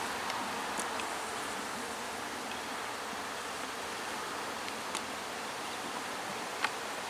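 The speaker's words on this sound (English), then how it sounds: "Got a good number of bees in there, you see?" Honey bees crowd the entrance of a packed hive, giving off a steady, even buzzing drone with a few faint ticks and no voices.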